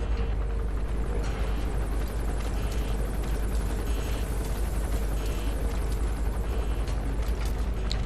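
A helicopter in the Metal Gear Solid V video game produces a steady, loud rotor thump and engine rumble that continues unbroken from start to finish.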